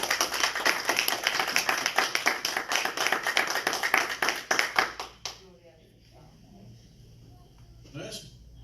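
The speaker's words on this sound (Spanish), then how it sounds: "¿Usted le puede dar un aplauso al Señor en esta mañana," A church congregation claps in a fast rhythmic beat for about five seconds, loud and close, then stops abruptly, leaving a quiet room with faint sounds and a short voice.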